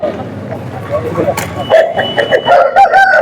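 A rooster crows loudly nearby in a few drawn-out calls while people talk in the background, at a rural sheep and rooster market.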